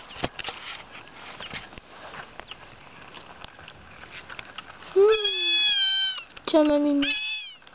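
A cartoon kitten in the video game Nintendogs + Cats meows twice near the end, bright, rising and clear. Soft taps and footstep-like clicks come before the meows, and someone speaks briefly.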